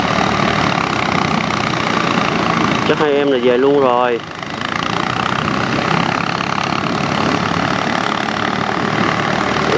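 A Ford 4600 tractor engine idles loudly and steadily up close in a muddy rice field, its low rumble constant throughout while someone speaks briefly over it.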